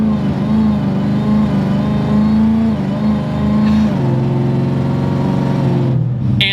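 Supercharged 900 HP Mercury Marauder V8 with a Predator blower, revving up close and loud in repeated pulls, with a sharp throttle blip at the end and no voices.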